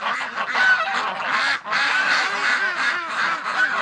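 A crowd of ducks quacks and honks nonstop on a rainy winter early morning, a dense, loud chorus of overlapping calls up close with only a brief lull partway through.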